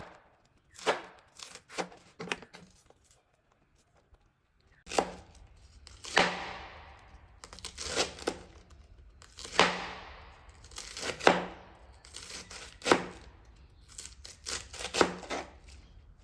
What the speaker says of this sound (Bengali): আমি একেবারে ঝুরি ঝুরি করে কেটে নিচ্ছি।